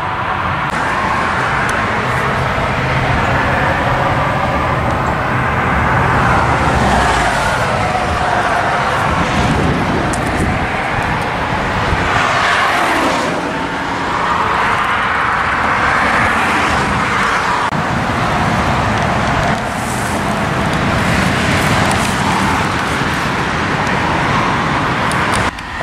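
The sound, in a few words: 1971 Pontiac LeMans car engine while driving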